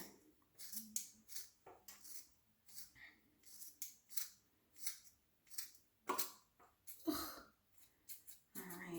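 Scissors snipping through hair locs to even them out, a series of close, crisp cuts in irregular rhythm with brief pauses between them, no talking.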